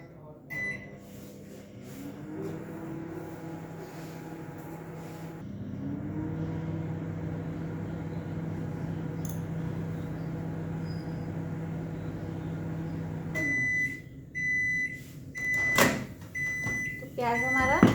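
A convection microwave runs with a steady hum for about 13 seconds, then gives a run of sharp electronic beeps near the end. Speech-like sound sits faintly under the hum.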